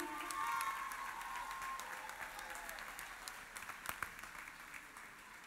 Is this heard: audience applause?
yes